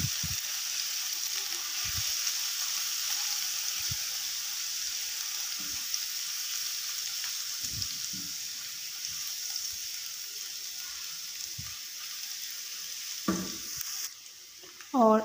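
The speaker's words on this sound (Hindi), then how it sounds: "ऑयल हमारा गर्म हो गया और अब हम इसमें डालेंगे 1 टेबलस्पून लहसुन पेस्ट। हल्का सा हम इसको फ्राई करेंगे।" A tablespoon of garlic paste fries in hot oil in a pan, giving a steady, even sizzle that runs throughout, with a few soft knocks and a brief clatter near the end.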